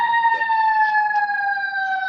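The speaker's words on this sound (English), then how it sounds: "Sirens." A police siren wails steadily and fairly loudly, its held tone sliding slowly downward as the vehicle passes.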